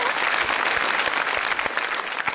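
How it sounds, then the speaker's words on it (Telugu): Audience applause at a children's show, a dense, steady wash of many hands clapping close by, continuous for the whole stretch with no pauses. "క్లాప్స్ కొట్టాలి కదండి."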